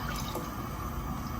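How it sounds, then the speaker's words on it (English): Vegetable broth poured into a pot of tomato and leek soup gives a steady, close liquid splash and gurgle that lasts throughout, with no talking. "So our vegetable broth, we add it all"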